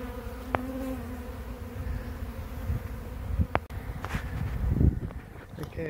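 Feral honey bees buzz around a tiny hive, a dense droning hum with individual bees zipping close by, plus a few light knocks and rustles.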